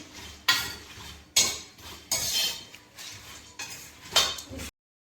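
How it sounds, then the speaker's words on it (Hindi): Raw peanuts roast in a pan at home, heard as a series of sharp scraping and rattling strokes of a utensil against the pan, each stroke followed by a brief rustle, then sudden silence. "कच्ची मूंगफली ये भून रहे हैं"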